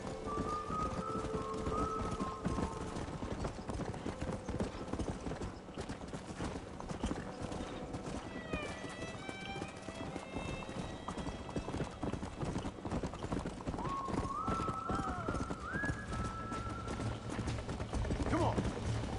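Hooves clip-clop rapidly as horses gallop in the Western video game Red Dead Redemption, with occasional whinnies over a busy game soundscape and a voice talking at points.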